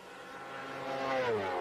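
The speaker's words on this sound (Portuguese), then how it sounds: "E olha o barulho do motor, nitidamente com um cilindro a menos." Formula 1 car at the 1994 German Grand Prix at Hockenheim, its engine running with one cylinder missing, a harmonic-rich drone that rises as the car approaches, growing louder and shifting pitch as it passes.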